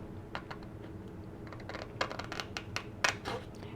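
Soft, quick snips and crisp crunching of scissors cutting card stock along a score line, close and fairly quiet, in irregular bursts.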